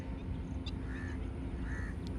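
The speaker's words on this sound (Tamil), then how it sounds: "சுற்றி எங்கே பார்த்தாலும் காக்கா தான்" Several crows calling around a quiet open spot near Kanchipuram, a few short harsh caws spread over a soft steady background at moderate distance.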